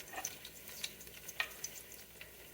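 Half an onion sautéing in a hot pan for a spaghetti sauce, a quiet, steady sizzle with scattered small crackles and pops, close and alone.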